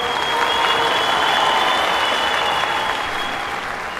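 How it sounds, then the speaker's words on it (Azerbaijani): Loud, dense applause from an audience at a televised prize contest, a steady unbroken wash of many hands clapping throughout, with a faint crowd murmur underneath. "Gürültülü alqış gəlsin!"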